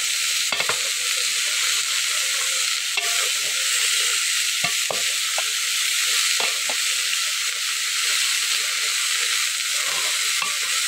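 Fish head with gourd shoots sautéed in a hot pan, a continuous loud sizzle and fry with occasional spatula scrapes and clacks against the pan, close by and without speech.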